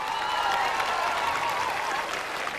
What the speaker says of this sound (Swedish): Ge er själva en varm applåd som har tagit upp hit.